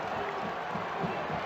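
A Carolina basketball crowd at the 2005 NCAA championship game against Illinois keeps up a steady, distant roar with scattered cheering, heard over a radio broadcast.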